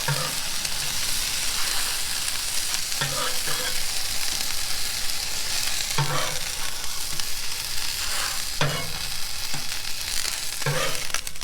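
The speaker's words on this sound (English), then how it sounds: "flavor the tortillas and oil them and make them crispy" Tortillas frying in hot oil until crispy, a loud continuous sizzle and crackle with several brief clattering bursts as they are turned and moved in the pan.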